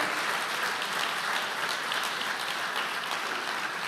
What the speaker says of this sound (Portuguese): agora você vai dar uma salva de palmas para Jesus enquanto eu bebo a minha água aqui